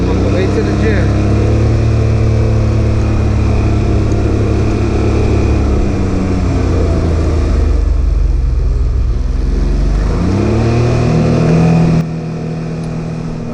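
Can-Am Ryker 900 cc three-wheeler engine droning steadily up close while riding, with rising and falling revs and a pitch sweep as it shifts near the end.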